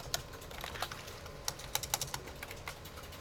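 Rapid, uneven clicking of keys on a computer keyboard, close and fairly quiet, with bursts of taps and short pauses between them.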